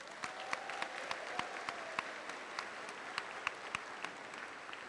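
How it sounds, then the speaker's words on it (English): A graduation audience applauds the school staff, a steady wash of many hands with sharper individual claps popping out, moderately distant and sustained throughout. "Please join me in a round of applause to acknowledge all of the hard work of all of these individuals"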